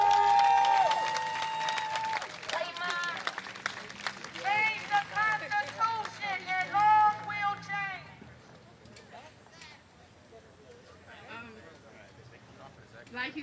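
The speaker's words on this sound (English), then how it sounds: "So please give them a round of applause." Outdoor crowd at a rally against racism cheers and claps for a couple, with shouting voices and whoops over the clapping early on, then thinning to scattered claps and chatter.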